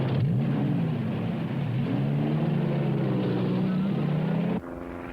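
A light propeller airplane drones steadily overhead at close range, its engine note wavering slightly, holding loud and constant before cutting to a quieter, lower hum near the end.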